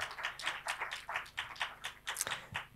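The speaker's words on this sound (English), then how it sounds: "Please give a round of applause again, maybe to Vitaly Mansky." An audience at a film talk claps for the documentary director Vitaly Mansky as he is invited onto the stage. The applause is soft and fairly distant, with a steady patter of separate hand claps.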